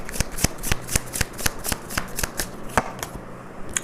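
Tarot cards are riffled and shuffled in quick, crisp bursts during a reading, a rapid run of sharp flicks close to the microphone, with no speech.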